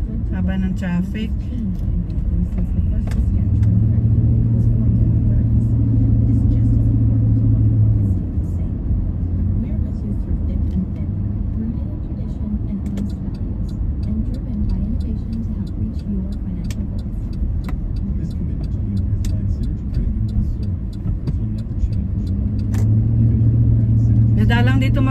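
Road traffic of cars queued near a school in Canada, a continuous low engine rumble with vehicles idling and moving past, while a person talks over it.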